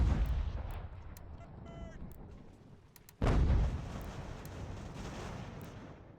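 Mortar fire in Ultimate General: American Revolution, a single heavy boom that cuts in abruptly partway through and rolls off into a sustained rumble over a backdrop of battle noise.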